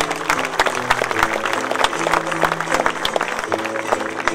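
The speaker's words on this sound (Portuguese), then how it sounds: "palmas" Audience clapping at an outdoor cantoria, a Portuguese improvised-verse singing event in Fontinhas, with dense steady applause and a sustained instrumental tone underneath, running throughout.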